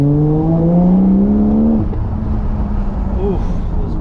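A Toyota JZX90 with its JZ engine, near and loud on a street run, holds a high rising rev, then drops sharply to a lower idle-like drone with a small blip later.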